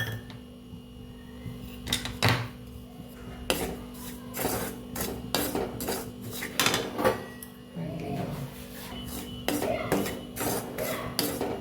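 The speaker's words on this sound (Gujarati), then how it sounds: "તો આપણે કડાઈની અંદર એમ જ રવાને શેકી લેવાનો છે" Semolina dry-roasts in a kadai with no ghee or oil, a spatula scraping and tapping against the pan in irregular strokes while a person talks intermittently.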